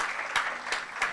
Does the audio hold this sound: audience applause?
yes